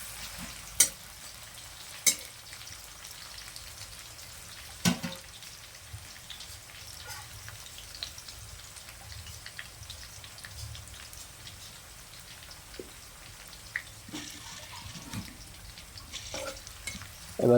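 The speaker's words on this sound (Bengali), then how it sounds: "যতক্ষণ না কাঁচা পেঁয়াজের গন্ধটা না যায় ততক্ষণ এটাকে ফ্রাই করব" Onions fry in a pan with a soft, steady sizzle and crackle, broken by a few sharp utensil knocks and stirring scrapes.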